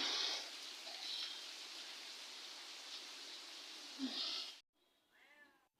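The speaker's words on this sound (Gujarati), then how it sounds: "એમને એક ધારો વરસાદ છે ફ્રેન્ડ" Steady rain hisses evenly for several seconds, then cuts off abruptly, followed by a cat meowing nearby.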